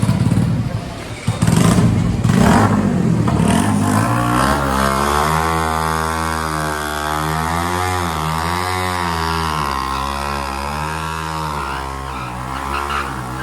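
Several 125cc motorbike engines rev and drone up and down continuously, loud and close, with a brief scrape and clatter at the start.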